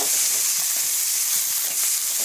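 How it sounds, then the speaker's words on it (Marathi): Coriander stems are stirred into hot oil tempering, giving a loud, continuous crackling sizzle up close, bright and steady throughout with no voices. "फोडणीमध्ये आपण कोथिंबीरचे दांडे टाकून घेतलेले आहेत, ते मिक्स करूया आपण आता याच्यामध्ये"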